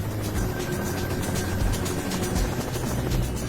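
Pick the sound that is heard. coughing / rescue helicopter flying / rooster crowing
rescue helicopter flying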